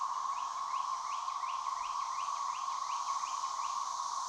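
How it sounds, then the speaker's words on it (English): Periodic bird chirps repeat roughly every third of a second under a loud, steady, grinding drone of 17-year cicadas, the insect noise dominating throughout. "You got a little bit of some birds chirping."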